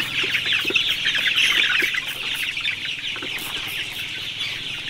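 Sonali chickens on a poultry farm, a dense, continuous chorus of clucking and chirping from many birds at close range, with no voices.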